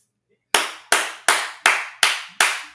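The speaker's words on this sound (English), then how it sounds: "I'm clapping, man. I'm clapping." A single person claps six sharp, evenly spaced times at close range, each clap ringing briefly before the next, during an NFL Draft watch party after a Cleveland Browns pick.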